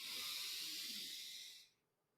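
A single slow, deep diaphragm breath drawn in through the nose, a soft steady airy hiss close to the microphone that fades out near the end.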